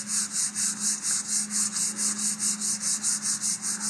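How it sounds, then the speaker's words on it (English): Fine sandpaper rubs back and forth over balsa wood fins for an Estes Vapor model rocket, an even, rhythmic rasping of about sixteen strokes with a low hum underneath. "when I go to sand them here, I'm going to use fine sandpaper"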